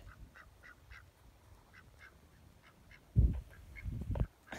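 Ducks at a frozen park pond, a run of repeated soft quacks at a distance, followed by two louder, closer bursts of sound near the end.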